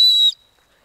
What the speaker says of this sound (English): safety whistle on there